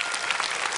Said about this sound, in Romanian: Doamnelor și domnilor, să-l primim cu aplauze pe Doru Mihăilescu